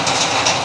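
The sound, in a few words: rain falling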